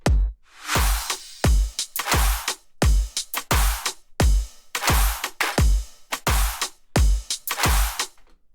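Punchy drum pattern with booming kicks and bright, crisp hi-hat and cymbal hits in a steady, repeating rhythm, loud and alone without any voices.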